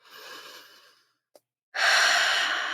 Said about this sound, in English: Take a nice breath in.